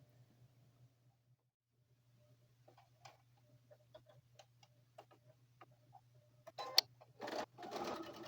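Sewing machine stitching binding onto a fabric mug rug, a steady low hum with rapid ticking needle strokes, then louder bursts of fast stitching near the end.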